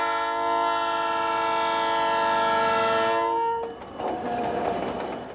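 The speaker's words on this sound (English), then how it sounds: "We follow the SP and beet trains from the valley up to the processing plant near the SP's coastline." A Southern Pacific sugar beet train sounds one long, loud horn blast for about three and a half seconds, then the heavy rumble of the passing train carries on close by.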